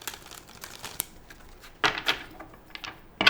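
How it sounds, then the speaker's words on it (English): Tarot cards shuffled by hand in a few quick crisp riffling bursts, close and fairly quiet, with short papery flutters separated by pauses. "I'm going to just do one more shuffle."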